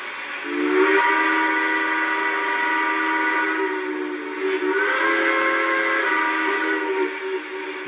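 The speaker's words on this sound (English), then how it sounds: "Now let's go into some of the steam whistles." Two long, loud blasts from an O-gauge model steam locomotive's whistle, each a sustained chord over a breathy steam hiss, close up and unaccompanied.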